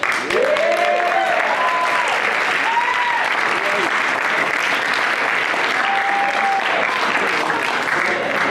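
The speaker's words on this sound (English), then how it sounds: "Can you guys please stand and let's cheer for our alumni?" A summit audience stands and applauds for returning alumni, dense sustained clapping and cheering filling the room, with whoops and voices rising through the steady roar.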